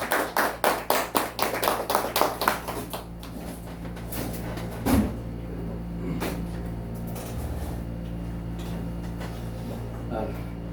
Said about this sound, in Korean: 박수로 보내드리겠습니다